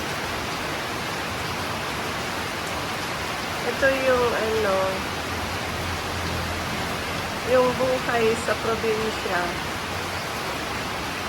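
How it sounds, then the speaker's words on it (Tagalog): Heavy rain pours steadily in a dense hiss, with a person speaking briefly over it twice. "Ang lakas na naman ng ulan, oh."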